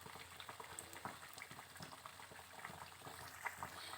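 Stuffed bread pakoda coated in gram flour batter fries in oil, giving a faint, steady bubbling crackle with small pops throughout.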